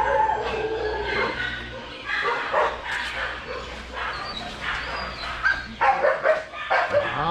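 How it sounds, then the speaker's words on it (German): Several excited dogs in an animal shelter compound bark, yip and whine in overlapping bursts, some near and some farther off, the clamor rising toward the end. "So, einser Compound, etwas verrückte Hundis, wie man gesehen hat."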